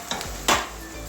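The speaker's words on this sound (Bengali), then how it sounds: "পেঁয়াজটা আমার ভাজা হয়ে গেছে, খুব বেশি ভাজবো না পেঁয়াজটা" Onions frying in oil in a pan for a Bengali yardlong bean and potato curry, a steady soft sizzle with a sharp metal clank of a utensil against the pan midway.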